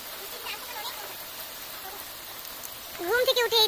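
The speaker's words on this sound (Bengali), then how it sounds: "ঘুম থেকে উঠেই দেখি যে এত সুন্দর বৃষ্টি হচ্ছে," Steady rain falls outdoors, a soft even patter in the background, with a voice speaking briefly near the end.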